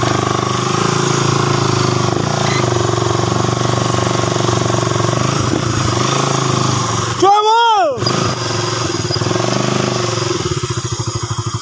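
A motorcycle engine drones steadily while riding along a trail, running loud and close for the whole stretch with people talking over it and a brief rising whine partway through.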